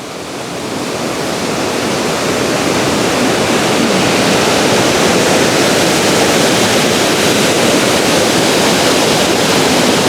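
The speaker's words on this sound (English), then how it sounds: "Look how ferocious that water is." Ferocious rushing river water near Betws-y-Coed on the way to Fairy Glen in Snowdonia, a loud, dense, continuous roar that swells in the first second and then holds steady with no voices.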